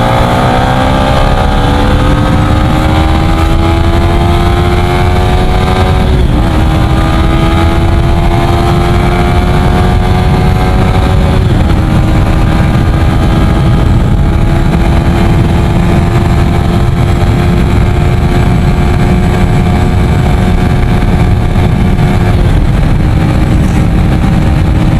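A Yamaha Sniper 155 motorcycle on 14T/48T sprockets with a stock ECU runs flat out at top speed, its engine a loud, steady high-revving drone with rising pitch and brief dips at gear shifts, close and constant throughout.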